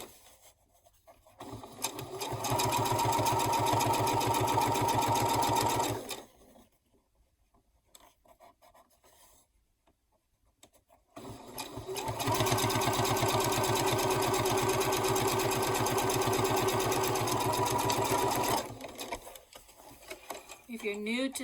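A domestic sewing machine sews the second side of a cotton linen canvas gift bag in two long, even runs of steady whirring, separated by a quiet pause with faint handling noises.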